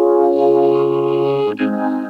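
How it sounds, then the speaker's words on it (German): A vocoder voice effect sings a robotic, harmonically rich sustained tone, steady and loud for over a second before a brief dip and a shift to a new pitch, heard alone in an Italo disco setting. "Vocoder."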